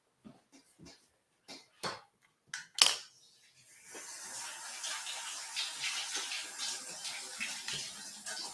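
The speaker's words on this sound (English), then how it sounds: "Let me just wash my hands." A few sharp knocks and clicks open, then a kitchen tap runs steadily as hands are washed under it while making flatbreads and roti; the flow is moderately loud and fluctuates gently as the hands move through it, with no talking.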